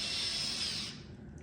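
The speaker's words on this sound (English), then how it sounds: "if you chuck them up in your drill and just kind of spin them as you push them up in" Power drill spinning an aileron counterbalance part for a Sonex Onex aircraft, a steady high whir for under a second that then cuts off and winds down, close and alone.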